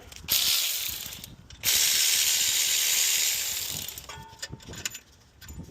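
Electric ratchet spinning bolts off an alternator mount on a 1997-2004 Dodge Dakota, two sustained whirring bursts lasting over a second each, close and loud, followed by lighter clicks and taps.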